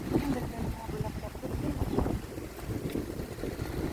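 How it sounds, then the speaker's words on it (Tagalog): Strong wind buffets an outdoor microphone with a steady broadband roar and low gusty rumble, while faint voices talk underneath. "Ay, lakas ng hangin."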